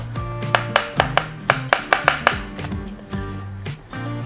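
A knife chopping cooked chicken on a board, about a dozen sharp, evenly spaced cuts, close and clear, with no talking.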